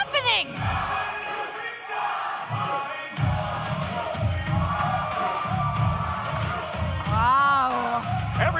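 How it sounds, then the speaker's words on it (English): A wrestling arena crowd roars for Tamiko Fatu, a son of Rikishi, at his OVW debut. Loud, sustained cheering and chanting fill the hall, with excited commentators talking over the din and a whistle-like whoop near the end. "And listen to the crowd."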